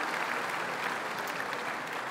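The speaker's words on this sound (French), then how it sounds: "On peut l'applaudir, on peut les applaudir" A hall audience applauds elected officials seated in the front row alongside Alain Juppé, a dense, even roar of clapping that holds steady throughout.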